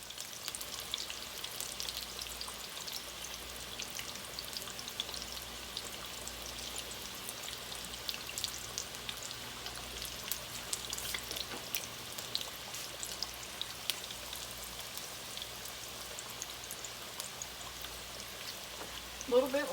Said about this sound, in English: I'm going to let them sit there and cook until they get good and crispy and tender